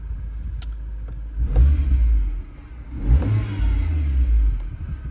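MINI Clubman Cooper engine revved twice while stationary, each blip rising sharply then settling back to a smooth idle, close and clear with no talk.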